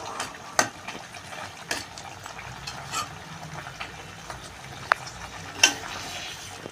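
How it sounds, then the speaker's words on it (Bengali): Tomatoes being mashed and stirred in simmering fish gravy, with soft bubbling and sizzle under several sharp scrapes of a spoon against the pan, close and fairly quiet. "টমেটোগুলো একটু গালিয়ে দিচ্ছি।"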